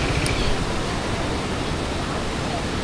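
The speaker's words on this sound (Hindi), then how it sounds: "बड़ा झरना है।" A large waterfall at Tikar village near Marpha in the Nepal mountains gives a steady, dense roar of falling water that fills the whole stretch loudly and evenly, with no break.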